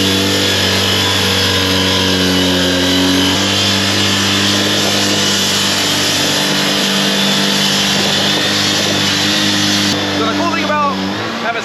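A concrete saw wet-cutting a slab, its loud steady blade whine drone filling the whole stretch with a constant roar and shifting tonal hum, close and unbroken.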